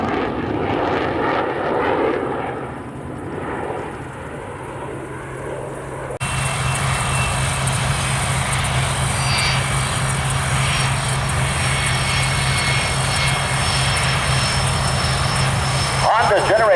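A tail-wheel airplane lands at the North Georgia air show, a loud continuous engine drone that swells and carries on steadily, with an announcer talking over it.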